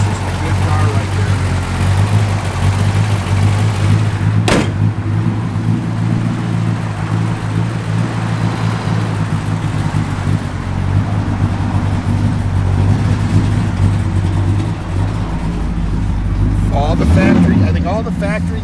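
A 1966 Dodge Charger runs at a steady idle with its air conditioning on, giving a close, continuous low rumble under ongoing talk.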